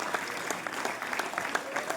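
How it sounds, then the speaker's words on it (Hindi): Brief burst of audience clapping at a Hindi speaking event, dense and fairly distant, continuing evenly for two seconds with a faint murmur beneath. "एक बार जोरदार तालियां देकर मुझे सहमति दीजिए।"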